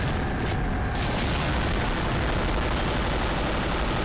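Continuous enemy gunfire and rumbling blasts in Agent Under Fire, a first-person shooter, forming a dense, steady wall of noise throughout with no clear gaps between shots.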